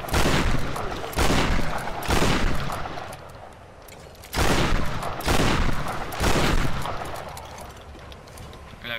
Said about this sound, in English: My shotgun now.